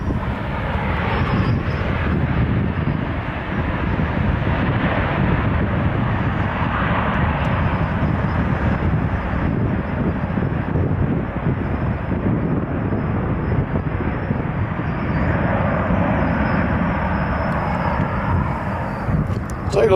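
An airplane landing at Nashville International Airport, a loud, steady jet roar that holds for the whole stretch at close range, slightly rising and falling, with no talk over it.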